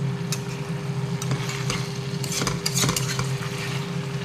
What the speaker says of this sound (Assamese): আৰু এতিয়া মই অকণমান গেছৰ ফ্লেমটো বঢ়াই দিছোঁ আৰু এনেকৈ কিছু সময় ভাজি থাকিম।